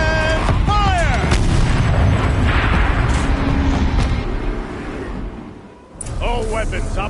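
A mounted turret fires in Horizon Zero Dawn with heavy booming blasts in a loud, rumbling stretch, while a voice speaks over it at the start and again at the end.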